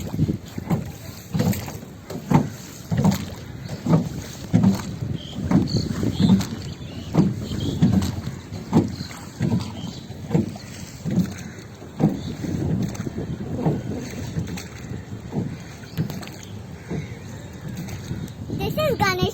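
A rowboat on the Yamuna river, oars dipping in a steady repeating rhythm of splashes and knocks, close by, with wind buffeting the microphone throughout.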